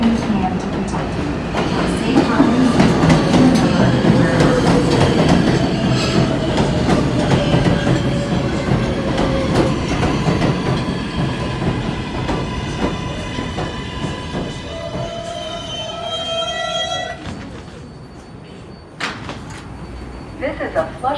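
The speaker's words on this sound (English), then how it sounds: "This is a Flushing Main Street bound 7 express train." An R188 7 express subway train rolls on rails toward Flushing Main Street, its steady loud rumble and rhythmic clatter filling the car, with a recorded announcement voice heard over it before the noise eases as it slows.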